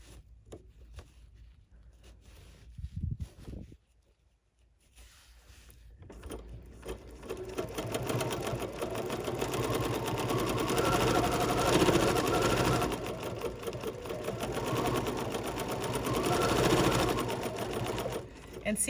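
A BERNINA sewing machine runs steadily for long stretches, sewing basting stitches at a close, even whir after a few short bursts and a brief pause, with a person talking over part of it.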